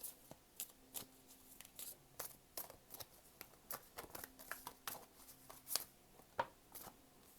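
Quiet, irregular riffling and soft slaps of tarot cards being shuffled by hand, close but faint, with no voices.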